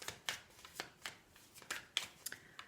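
Tarot or oracle cards are shuffled briefly by hand, producing a handful of soft, quick riffling slaps, close and quiet without talking.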